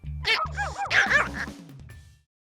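Several dogs at a doggy daycare center bark and yip in a quick, overlapping cluster, close and lively, fading to quiet within a couple of seconds.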